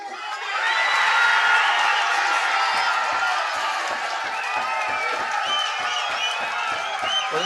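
A boxing crowd at a Sheffield fight night roars and whoops after a unanimous judges' decision, a dense sustained wall of cheering and shouts that swells early and stays loud throughout.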